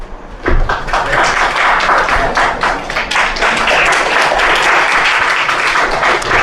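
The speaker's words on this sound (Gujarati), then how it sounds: "એ બંને માટે તાળીઓ પાડો." A classroom audience at a physics lecture bursts into loud, sustained applause for two students, with dense overlapping clapping from many hands and no speech.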